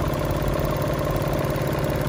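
A 2016 Mitsubishi Attrage with a 1.2-litre three-cylinder engine idles with a slightly rough, vibrating hum, a steady low throb at an even level from start to finish, close by and without talk.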